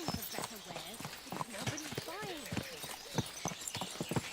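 Horse hooves clop in a steady galloping rhythm in a video game, close and clear, with someone talking over the hoofbeats.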